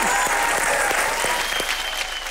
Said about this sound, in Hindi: संजय सर के लिए जोरदार तालियां हो जाए।